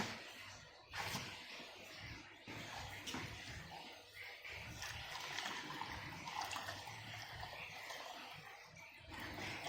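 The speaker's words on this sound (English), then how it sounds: "fill it up with some water" Water is poured into a basin holding about half a cup of vermiculite for rooting Snow Queen pothos cuttings, giving a steady, faint filling rush with a soft splash near the start.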